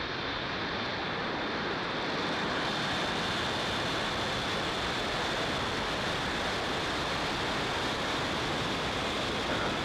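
Falcon 9 rocket lifting off with Starlink satellites, a steady, dense roar of broadband noise that holds loud and unbroken throughout, like heavy rushing surf, with no voices.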